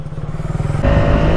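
Motorcycle riding on an open road, its engine throbbing in a steady pulsing rhythm close by, then surging louder with a rising whine as it accelerates.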